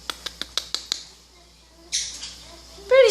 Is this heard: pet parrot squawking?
yes